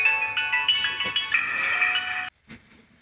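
A mobile phone rings with a bright, warbling electronic melody of repeating notes, fairly close and clear, then cuts off abruptly, leaving a short soft knock and quiet room tone.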